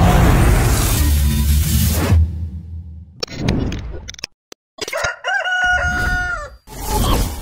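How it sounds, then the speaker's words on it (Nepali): Sonali breed chickens on a poultry farm, roosters crowing in drawn-out calls and hens clucking nearby, with a burst of rustling noise at the start and short gaps of quiet between the calls. "सोनाली कुखुराका भाले पोथीहरू मजाले चाहिँ यिनीहरू दाना खाइरहेको"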